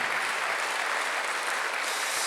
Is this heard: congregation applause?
yes